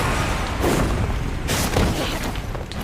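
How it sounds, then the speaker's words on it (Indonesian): A loud, dense rumbling blast with crackling bursts, sustained and full-bodied throughout, like a large explosion tearing through a building. "mereka melompat keluar melalui jendela, tepat saat rumah Tayo meledak"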